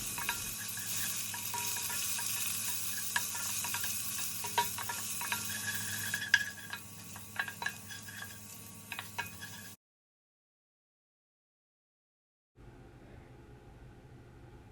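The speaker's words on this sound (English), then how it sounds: "Once the oil is hot, you can add the ginger. Saute it for about a minute" Fresh ginger sautés in hot oil in a pan for a honey garlic sauce, a steady close hiss and crackle with scattered stirring clicks, which cuts out abruptly and returns as a fainter sizzle.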